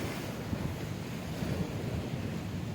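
Sea waves at a beach in Kanyakumari, a continuous low surf roar with wind buffeting the microphone, steady and fairly soft throughout with no voices.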